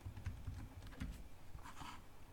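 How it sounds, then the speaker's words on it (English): Typing on a computer keyboard while entering an APA-format essay, a steady run of quick, close key clicks and taps continuing for a couple of seconds without talk. "We're going to start by typing the word abstract"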